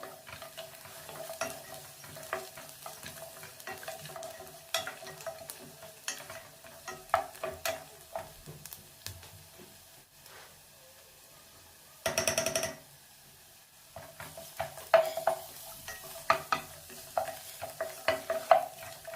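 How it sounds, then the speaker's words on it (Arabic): Minced garlic and onion fry over low heat in a pot while a utensil stirs them, giving soft scraping strokes and a faint sizzle, with one louder burst of clatter midway and no talk. "وبنقلب تمام على نار هادئة حتى ما ينحرق البصل والثوم"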